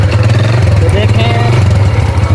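Honda 70cc motorcycle engine running close by, a steady throbbing idle with a strong low hum, while someone talks over it.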